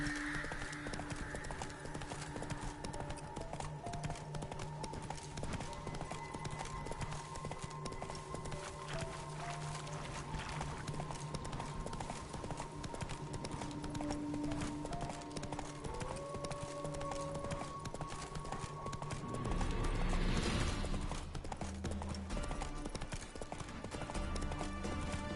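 Horse hooves gallop in steady, rapid clip-clop over continuous in-game ambience in The Witcher 3, with a brief swell of louder noise near the end.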